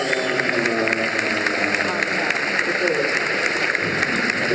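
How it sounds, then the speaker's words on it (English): Audience applause at a live Q&A event, a dense, steady wash of clapping and crowd noise that holds at a constant loud level for the whole stretch, with talk mixed in underneath. "Round of applause, yes."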